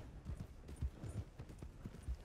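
Horse hooves gallop in Red Dead Redemption 2, a steady, rhythmic clip-clop of repeated thuds close by, with faint game ambience underneath.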